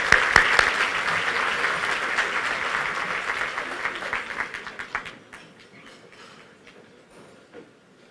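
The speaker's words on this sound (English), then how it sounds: "So let's give her another round of applause." An audience at a Maryland political event claps loudly, a dense burst of applause that tapers off toward the end into scattered claps.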